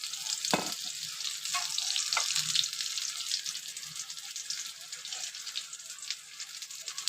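Poha cutlets fry in oil with a steady, close sizzling hiss throughout, punctuated by a few soft knocks of utensils against the pan.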